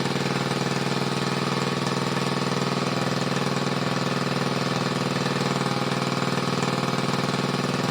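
A classic Honda engine idles after being brought back to life, running loud, close and steady with a dense rapid chatter and no pauses.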